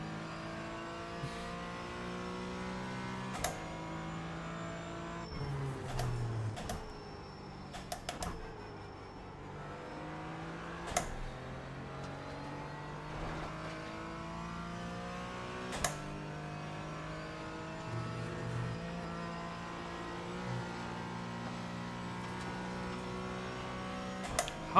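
A GT4 race car engine revving at night in a racing video game, a faint, steady whine with gear-change dips, rising and falling engine pitch and a few sharp clicks, heard alone.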